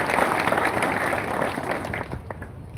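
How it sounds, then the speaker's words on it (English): An audience applauds a fundraising committee at a live-streamed event, steady dense clapping that runs throughout and fades slightly toward the end, with faint voices mixed in. "they deserve a hand clap."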